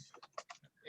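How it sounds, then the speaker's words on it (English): Bursts of typing on a computer keyboard during an online meeting, a handful of quiet clustered keystrokes with uneven rhythm, close and faint, with no one talking. "Sorry to be typing while I'm on."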